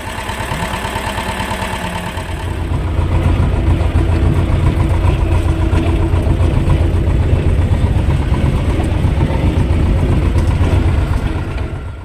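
T-25 tractor engine running steadily just after starting, a loud close diesel drone that swells after about two seconds and holds, with no voices.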